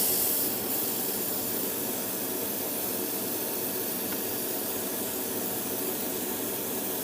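A steady, continuous airbrush hiss of spraying paint onto a model kit canopy, close and even in level for several seconds, with no talking.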